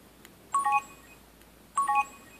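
Samsung Galaxy Note 2 S Pen alert tone, a short bright electronic chime heard twice about a second apart, clear and close against a quiet background.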